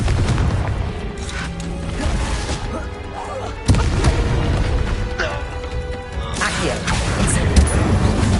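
A Confringo blasting spell goes off in Hogwarts Legacy, a sharp booming explosion that punches through a dense layer of game effects and music, followed by further crackling impacts and rumbling bursts.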